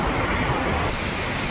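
Hail and rain pelt down at Machhapuchhre base camp, 3700 metres up in the Annapurna region, as a dense, loud, unbroken roar of pattering close to the microphone, mixed with wind.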